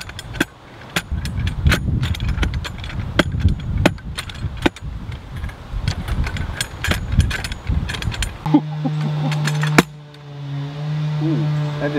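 A well-drilling bit strikes rock underground while a well is hand-drilled, giving repeated sharp metallic knocks and clanks at an irregular rhythm, followed near the end by a steady mechanical hum.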